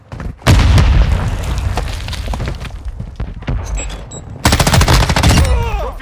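A Semtex grenade detonates with a loud boom in Call of Duty Modern Warfare 2 multiplayer, followed by dense rifle fire and a second heavy burst of automatic shots.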